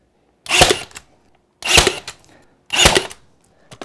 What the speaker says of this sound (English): shoot a couple nails into the wood and not the LVP